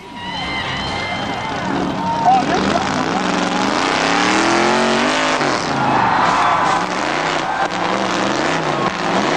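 Monster truck engines revving and racing at a 1980s show, with loud shifting engine pitch and tyre noise running throughout while a narrator talks over it.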